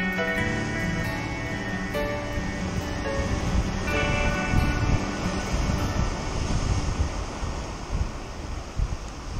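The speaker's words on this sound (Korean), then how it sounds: "파도 온다." Ocean waves crash at the shore by Beavertail Lighthouse in Jamestown, Rhode Island, during a November fishing outing, a loud continuous roar of surf and churning water with no talk.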